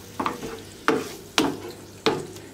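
Beef for dürüm frying in a pan, a steady sizzle broken by four sharp scraping stirs spaced roughly half a second apart.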